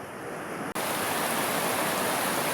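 A clear stream beside a trail at Pinnacle Nature Preserve in Russell County, Virginia, rushes in a dense, steady wash close by, with one brief dip near the start and no voices.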